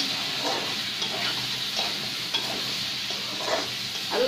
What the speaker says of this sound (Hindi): अब इसको मिला देंगे अच्छे से